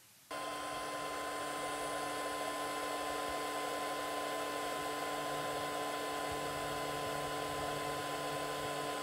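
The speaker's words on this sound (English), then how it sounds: "Here is the fan noise of the 350 watt on another printer at idle." A 350-watt power supply cooling fan on a 3D printer switches on and runs at idle with a steady whir and a faint tonal hum, constant and close, with no other sounds.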